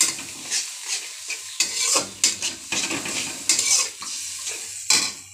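Onion and garlic paste sautés in a hot pan. Bursts of sizzling rise and fall with repeated stirring strokes, and a utensil scrapes and clinks against the pan between them.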